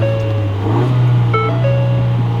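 A Ford Fiesta SE engine held against its rev limiter at about 3,500 rpm, a loud, steady drone with slight wavering in pitch, close by and without speech.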